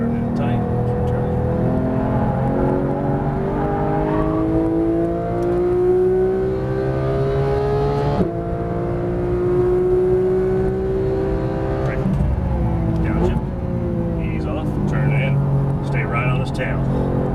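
A 2015 Porsche 911 GT3 revs hard around Las Vegas Motor Speedway, its engine rising in repeated climbing sweeps with a sharp shift break midway, loud and close, while a driver talks over it.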